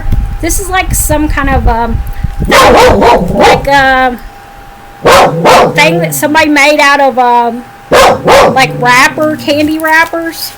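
A dog barks repeatedly at neighbors across the street, sharp yaps and bow-wows in bursts running beneath and between a person talking nearby throughout.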